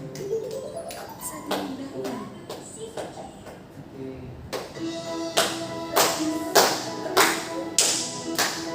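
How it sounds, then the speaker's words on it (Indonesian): Students in a micro-teaching classroom clap their hands together in a steady beat. The sharp claps are sparse amid voices at first, then grow louder and more regular in the second half. "Oke, tepuk tangan ya semuanya"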